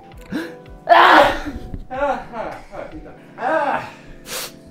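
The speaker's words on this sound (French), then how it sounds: "j'ai envie d'éternuer" A single sharp, close sneeze bursts out after a gasping intake of breath, followed by a man's speech and a few snorting breaths.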